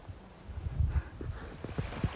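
Gusty wind at Shoshone Lake buffets the microphone in low, uneven rumbles that rise and fall over a couple of seconds, close and moderately loud.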